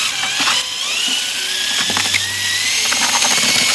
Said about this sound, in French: j'utilise ma perceuse, vous voyez, avec un petit malaxeur.